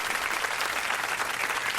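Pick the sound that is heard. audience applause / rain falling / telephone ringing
audience applause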